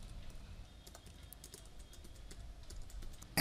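Code is typed on a computer keyboard in quick, light, irregular keystrokes, close and fairly quiet, ending with a sharper heavier thump.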